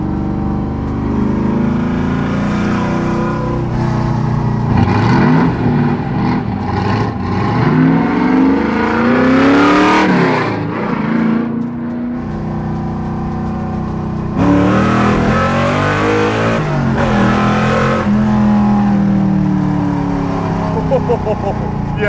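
A 750-horsepower big block Mercury Cougar muscle car engine revs loudly and close up, with rising and falling harmonic sweeps, while people talk over it.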